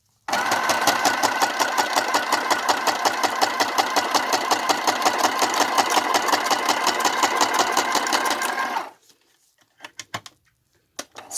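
A sewing machine runs a basic stitch through lace and journal paper signatures, a steady rapid mechanical chatter at close range for about nine seconds before stopping, followed by a few faint handling clicks.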